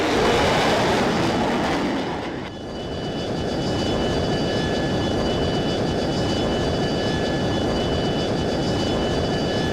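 An F-22 jet fighter in the PC flight game F22 Total Air War gives a loud, steady engine roar that runs unbroken throughout, with no one talking.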